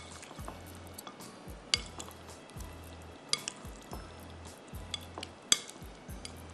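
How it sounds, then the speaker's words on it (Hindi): Methi chicken curry stirred and mixed in a pot: a steady run of soft wet scraping strokes with a few sharper spoon clinks against the pot rim, close and moderately quiet, with no talk. "उसके बाद हम इसको अच्छी तरह से मिक्स करेंगे"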